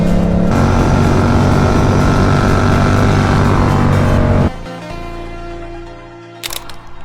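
A Yamaha R7 motorcycle engine roars loudly and close by during a test ride of its quickshifter, holding a strong, steady drone for several seconds before dropping abruptly to a lower, quieter running note.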